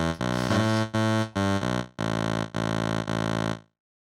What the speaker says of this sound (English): we now have amp, which is just like a total